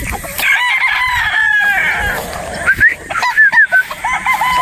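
A broodstag gamefowl rooster crows loudly and close, one long drawn-out call followed by a series of shorter choppy crowing notes, with no speech.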